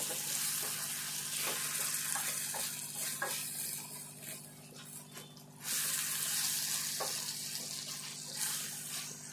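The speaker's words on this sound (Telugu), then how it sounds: "బీరకాయ ఇట్లా కొంచెం మెత్తబడాలి ఇట్లా దగ్గరికి రావాలి ఇట్లా వేగాలి" Ridge gourd softening and frying in a pan, a steady soft sizzle with faint watery crackle and a few light clinks of stirring, continuous and close, fading briefly midway before returning.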